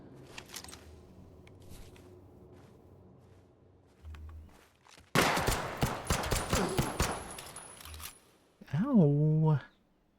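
A dense volley of rapid gunfire erupts in a video game, loud close shots arriving after a quiet stretch with soft footsteps, and a warbling electronic tone follows.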